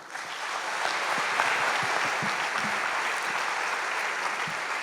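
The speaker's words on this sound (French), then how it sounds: "sous vos applaudissements" Broad, steady applause from a studio audience on a French television set, sustained at an even level throughout with no voices over it, greeting the president of Century 21 as he is introduced.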